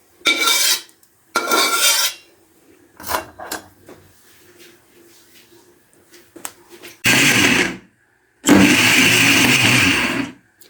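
An electric grinder pulverizes roasted flaxseed in several loud, whirring bursts. Two short runs come first, and after a quieter stretch with faint clinks, two longer runs follow, all close up.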